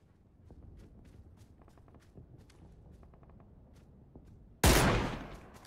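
PUBG match on PS5: soft footsteps patter for several seconds, then one sudden loud gunshot blast near the end that decays over the final second.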